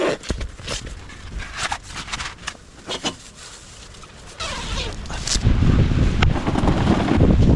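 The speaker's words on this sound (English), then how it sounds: "That wind's picking up." Strong wind buffets a camping tent in snowy Alaska, with gusty rumbling microphone wind and flapping fabric that build louder toward the end, with no talking.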